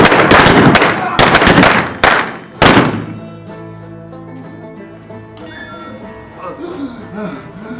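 Several sharp, loud gunshot-like bangs burst from a Wild West gunfight reenactment in Tombstone during the first three seconds, followed by a quieter stretch with background voices and music.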